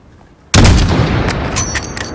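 Single loud gunshot at a distant target in Call of Duty: Modern Warfare, a sharp, booming crack after a brief quiet lead-in, followed by a long rumbling tail with faint echoing reports.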